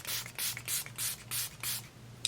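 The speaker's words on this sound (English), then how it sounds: "So I'm going to spritz my face real quick." Make It Last setting spray spritzed onto a face, five or six quick hissing pumps in a steady rhythm, close and clear with nothing else over them.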